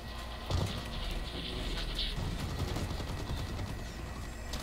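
In Blacklight: Retribution, a gas grenade goes off with a sharp burst, and a steady hiss follows. Rapid gunfire crackles under it, a dense, noisy firefight texture that carries on throughout.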